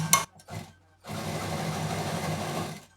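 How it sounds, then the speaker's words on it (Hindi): A domestic sewing machine stitches folded piping onto a handmade duffel bag. A few short bursts of its whirring motor come first, then one steady, close run of mechanical chatter lasting nearly two seconds before it stops. "पाइपिंग का लुक देते हुए पतला मोड़ के सिल देंगे"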